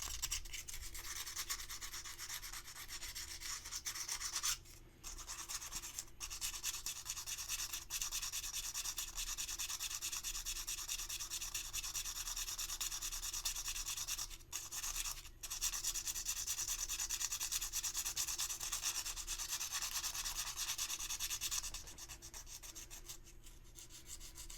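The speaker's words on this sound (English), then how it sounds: "Once you start sanding it down, smoothing it out, it will blend naturally, more naturally." Steady, close rubbing rasp of sandpaper smoothing the mouth of a resin Xenomorph Queen statue, continuous strokes with two brief pauses and a slight drop near the end, no talking.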